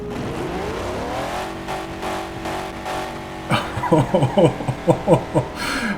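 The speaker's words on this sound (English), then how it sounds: "Let's rev it up here." A large twincharged car engine idles with a smooth, buzzing hum, then is revved in a quick series of sharp, loud bursts that rise and fall close to the microphone.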